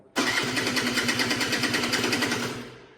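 A mid-pitched motorcycle engine, an AM6 under repair sounding unusual, roars to life abruptly and holds a loud, buzzing rev with a rapid pulsing rhythm before easing off at the end.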